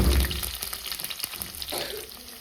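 Ginger goes into coconut oil already heated with garlic, giving a steady sizzle and crackle with occasional stirring scrapes, moderately close and without speech.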